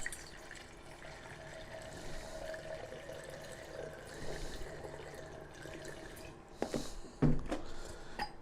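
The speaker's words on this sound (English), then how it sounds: "Let's add some water." Water runs and splashes quietly into a wooden barrel, a soft steady trickle with a few louder sloshes near the end.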